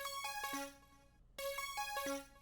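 A bright synth plays a short repeating melodic pattern of plucky notes jumping between registers, quiet and clean, with a brief gap before it repeats.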